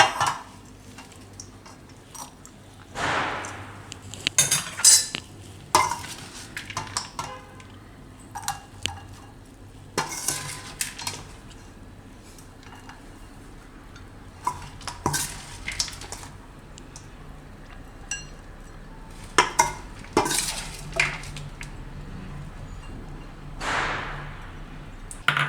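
Metal spoon scraping and clinking against a pan while poha bhel is scooped out, with irregular bursts of scrapes and taps spread across the stretch, close and moderately loud over a low steady background hum.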